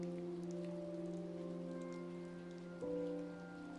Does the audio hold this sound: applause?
no